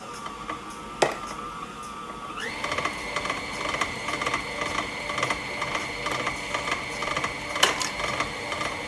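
A stand mixer with a paddle attachment whirs steadily while mixing gluten-free chocolate chip cookie dough, with a motor tone that shifts up in pitch early on and faint rhythmic knocks from the bowl, with no talk.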